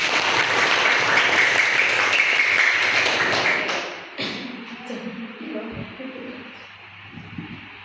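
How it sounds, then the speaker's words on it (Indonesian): A roomful of people claps steadily for a few seconds, then the applause fades out, leaving quiet room noise and a few faint voices. "Oke, tepuk tangan."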